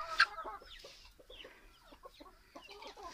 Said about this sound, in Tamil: கோழி அடைச்சி வச்சுருக்கேன் இந்த கோழி ஒன்றும் அவ்வளோ ஈஸியாக வெளியே வராது